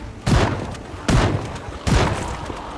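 Shotgun fire in the zombie-survival game Project Zomboid, facing a huge horde: three loud, close booming blasts spaced under a second apart, each decaying quickly into a low rumble.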